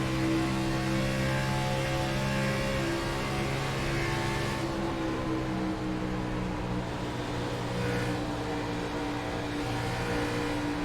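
A race car engine drones steadily in traffic as the driver feathers the throttle, a continuous buzzing roar with slight rises and dips throughout, no talk.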